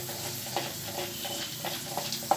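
Chana dal frying in hot oil in a pan, a steady soft sizzle with light scraping and stirring clicks throughout, close and moderately quiet, no talking.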